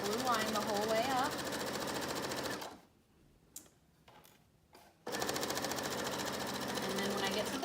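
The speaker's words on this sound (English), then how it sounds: "So I'm just going to sew right on that blue line the whole way up." Sewing machine stitching a fabric beach bag along a marked line: steady fast close whirring runs, stopping for a couple of seconds with faint clicks, then resuming, under a voice talking.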